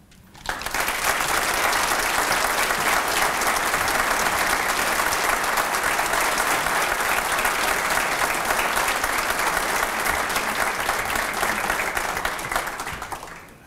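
Audience at the Coweta sports hall of fame ceremony applauding inductees and state championship teams, a loud, sustained roar of clapping that swells quickly and holds steady before tapering at the end.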